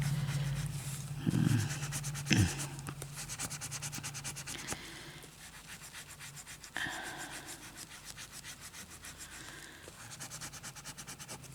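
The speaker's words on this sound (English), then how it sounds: "you need to really rub it in there to get it right" Craft material is rubbed down firmly by hand into its nooks, a close, quiet, repetitive rubbing and scuffing with a few louder bumps early on.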